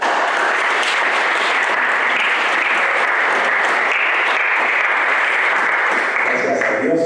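Audience applause at a church gathering, a dense steady wash of clapping filling the whole stretch, loud and continuous, with a few voices mixed in near the end.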